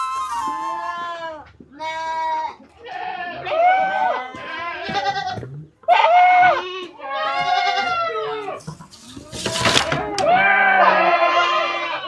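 Goats bleat repeatedly nearby at a farmyard, loud wavering cries in a series of separate calls, with a person talking between them.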